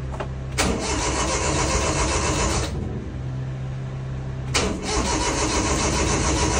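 A Honda Acty truck engine cranks sluggishly on a weak battery, with two long grinding bursts of starter effort separated by a pause, loud and close with no voices.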